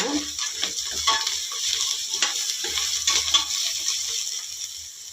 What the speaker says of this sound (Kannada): ಈಗ ಶುಂಠಿ ಬೆಳ್ಳುಳ್ಳಿ ಪೇಸ್ಟ್ ಹಾಕ್ಕೊಂಡ್ಬಿಡ್ತೀನಿ ಒಂದು ಸ್ಪೂನು ಚೆನ್ನಾಗೆ ಹಸಿ ವಾಸನೆ ಹೋಗೋದಂತ ಫ್ರೈ ಮಾಡ್ಕೊಳ್ಳೋಣ